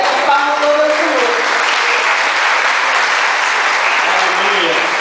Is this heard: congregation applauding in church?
yes